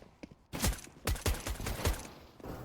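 Pistol-round gunfire in a Counter-Strike championship match: a burst of sharp, close shots cracks out in quick succession, five or six loud reports spaced unevenly over a couple of seconds.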